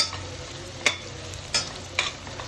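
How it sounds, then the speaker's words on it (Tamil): Kuska masala sizzling softly in a pan, a quiet steady fry punctuated by three brief spatula scrapes as it is stirred. "அது வரைக்கும் இது நல்லா கலருங்க"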